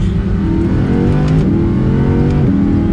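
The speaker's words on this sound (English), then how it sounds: "I think we have to do another downshift here in a second." An Audi R8 V10 Plus with an S-tronic transmission roars loudly under acceleration from inside the car, its engine pitch climbing steadily and then dropping sharply at two quick paddle-shift gear changes.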